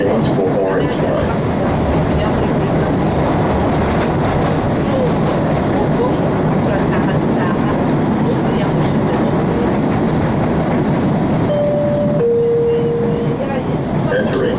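An MBTA Siemens 700 Series Blue Line subway train riding underground, a loud, steady roar of wheels and motors with two brief tonal beeps near the end and voice announcements.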